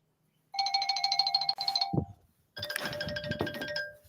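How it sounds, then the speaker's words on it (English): A mobile phone rings somewhere in the room, two bursts of a bright electronic ringtone with a brief thud between them, fairly close and with no talking. "That's my phone somewhere, but I don't know what it is."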